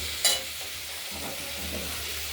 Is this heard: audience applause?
no